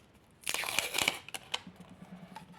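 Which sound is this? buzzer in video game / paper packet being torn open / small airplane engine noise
paper packet being torn open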